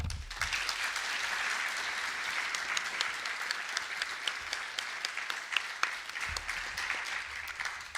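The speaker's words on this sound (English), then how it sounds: "I will allow you to break the clapping rule as well to introduce and thank all of our awesome candidates" A forum audience gives sustained applause for political candidates at a 2017 New York District 21 Democratic event. The dense crackle of many hands holds steady throughout, heard from a moderate distance in a hall.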